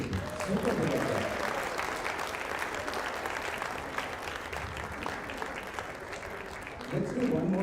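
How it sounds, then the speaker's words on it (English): Audience applause filling a hall, steady broadband clapping that stays loud throughout, with voices and cheers mixed in near the start and end. "Just go ahead and give you a super big applause."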